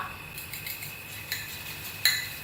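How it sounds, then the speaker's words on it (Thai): A spoon whisking egg yolk salad dressing with sugar in a bowl, soft rapid stirring with light clinks of metal against the dish, louder taps near the end. "ตีให้เข้ากันก่อนนะคะ"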